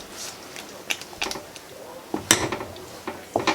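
Dried seasonal greens being stirred into peanut butter in a pot for Acholi malakwang, giving a few scattered scrapes and clinks of a utensil against the pot, fairly close and sparse.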